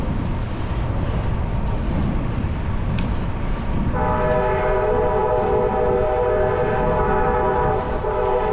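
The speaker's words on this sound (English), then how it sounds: "I don't know if you can hear this train horn." A train horn sounds a sustained chord over heavy rumble, near a trail on the GAP and C&O Canal cycling route, with the horn entering midway and holding steady to the end.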